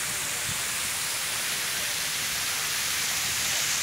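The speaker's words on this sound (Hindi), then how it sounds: "ये झरने देखो फुहारे मस्त।" Park fountains spraying water at Rani Laxmi Bai Park in Jhansi: a continuous, even splashing hiss of falling water, loud and close, with no talking.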